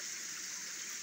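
Stream water rushing steadily through a beaver dam on a forest brook after rain, a continuous near, even flow with no pauses.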